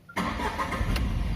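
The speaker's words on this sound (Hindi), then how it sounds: "जैसे मैं गाड़ी स्टार्ट करता हूँ" A used car's engine cranks and fires, jumping from a quiet hum into a steady, rumbling idle that carries on evenly to the end.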